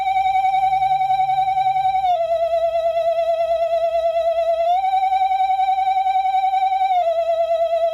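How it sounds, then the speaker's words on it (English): A Halloween ghost decoration sends out a loud, steady electronic warble whose pitch wavers and steps down and up a few times, continuous and close for the whole clip. "the thrilling ghost sound that this thing makes will touch the hearts of anyone between the ages of 30 and 40 years old."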